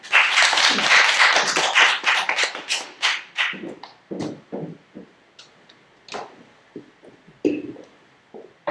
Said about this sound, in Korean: 나오실 때 따뜻한 박수 부탁드리겠습니다.